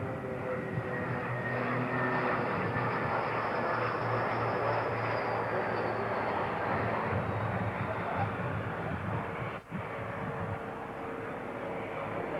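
An Airbus A380 airliner approaches to land in South Africa, giving a steady, broad engine roar heard from a distance with a faint whine and one brief dip near the end.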